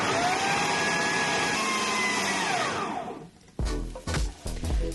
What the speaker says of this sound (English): I can put these in a sort of food processor and blitz them up